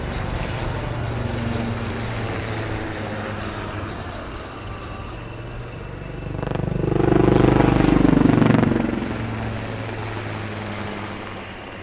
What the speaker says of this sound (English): that scintillating display by the Sarang helicopter display team